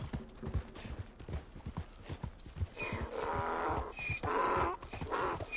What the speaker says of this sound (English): Come on, little donkey. Full speed.